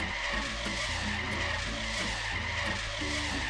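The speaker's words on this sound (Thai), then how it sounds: "เนี่ยคือผมเบรกนะดูดิ" Car braking and skidding in the Trader Life Simulator video game, a continuous loud tire-squeal texture with an engine hum underneath, steady throughout with no talk.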